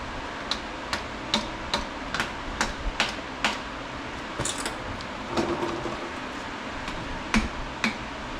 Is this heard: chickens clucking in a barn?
no